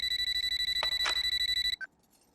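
A telephone rings with a rapid pulsing electronic tone, close and loud, broken by a couple of brief clicks, then stops with one short beep.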